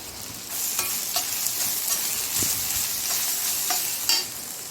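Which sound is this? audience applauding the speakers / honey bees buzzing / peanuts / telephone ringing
peanuts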